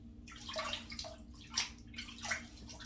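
Soft splashes of water scooped onto a face before a shave, several quiet sloshing bursts close by over a faint background hum.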